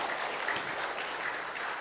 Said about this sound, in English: please once again I ask you to give big applause for our 3 presenters here